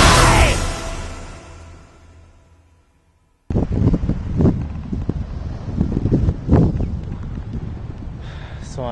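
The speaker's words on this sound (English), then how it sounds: "I don't know if you can hear me, the wind's blowing" Wind blowing at a beach in Doha on the Gulf, heard as loud, close gusts buffeting the microphone, then a sudden cut to rougher wind noise with a voice talking over it.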